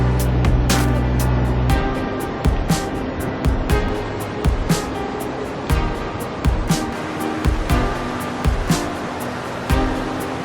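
Baker's Falls, also called Gonagala Ella, a 22-metre waterfall on the Belihul Oya in Horton Plains, gives a constant close rushing of falling water with scattered sharp splashes and knocks throughout.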